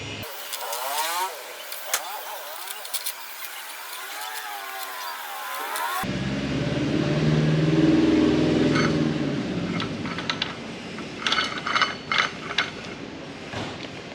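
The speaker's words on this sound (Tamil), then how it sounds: "இப்போ இதில் வச்சு அப்படியே நம்ம ரோல் பண்ணோன்னா அழகாக ஓடி வந்துடுவார்." New brass motorcycle chain on a Hero XPulse 200, rolled onto the sprocket by turning the wheel: a steady ratcheting, clicking rattle, up close, with a louder rolling swell midway and a few sharp clacks near the end.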